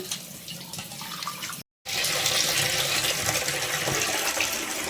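Running tap water pours steadily as chirri leaves are rinsed, briefly cutting out for a moment before gushing again, loud and close.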